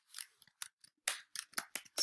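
Keys typed on a computer keyboard during an academic database search, a quick irregular run of about ten crisp clicks, close and quiet, with no speech.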